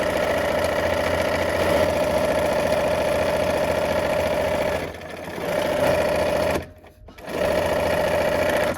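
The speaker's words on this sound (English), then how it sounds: "We're gonna sew these parts into rows here." A sewing machine stitches quilt block rows for a peach and cream sampler quilt, a steady close whirring hum that briefly slows around the middle and pauses near the end before resuming.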